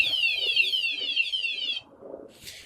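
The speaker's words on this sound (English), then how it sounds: "So if the individual were to continuously vibrate the motorcycle, the alarm will keep going off." Wsdcam 113dB wireless vibration motion alarm for a motorcycle, a loud piercing warbling siren that sweeps rapidly for under two seconds, stops, then gives a brief burst of noise.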